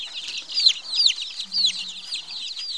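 Young chicks in a cage cheep and cluck continuously, many overlapping high chirps close by, with no talking.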